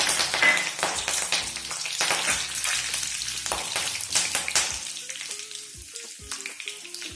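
Cumin seeds and curry leaves crackle and sizzle in hot oil for tempering a Maharashtrian phodniche varan, a loud, dense spitting hiss that eases slightly toward the end.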